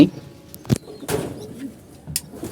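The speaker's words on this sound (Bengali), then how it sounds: "এগুলো বিডার কবুতর" Breeder pigeons kept in a coop give soft, low cooing calls in a few short bursts, close by, with brief knocks and rustles in between and quiet gaps.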